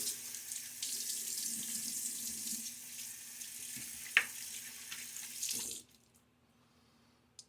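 A sink tap runs in a steady hissing stream during a wet shave with a Gillette razor. It flows close and loud for about six seconds before shutting off into quiet.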